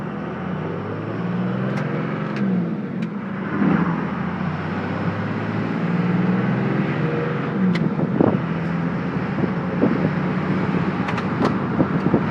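Reman Cummins diesel regular-cab pickup with a five-speed manual and new tires driving along, a steady low engine and road rumble with a few brief bumps and clicks, heard close from inside the cab.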